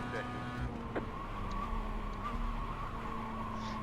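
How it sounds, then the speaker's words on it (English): Race car braking hard into turn 1 at Lime Rock Park, a steady engine drone with a steady whine, faint tire noise and a brief knock near the start, all at moderate, even loudness. "getting on the brake pedal"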